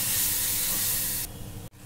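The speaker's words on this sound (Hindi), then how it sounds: "मसाला हमारा भून रहा है, इसे ऐसे ही चलाते हुए भूनेंगे।" Spice masala roasting in a pan for Rajasthani papad curry, a loud dense hiss and sizzle that drops abruptly after about a second to a quieter frying hiss, close and without speech.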